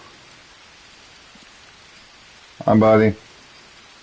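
Steady rain falls throughout in the jungle survival game Green Hell, a soft continuous hiss at even level, with a short burst of a man's speech near the end.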